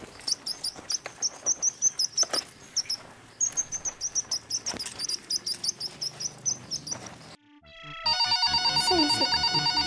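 A phone rings in a Hindi film scene, a repeated rhythmic chirping ring tone pulsing in short bursts, then breaking into a different, louder electronic ringtone near the end.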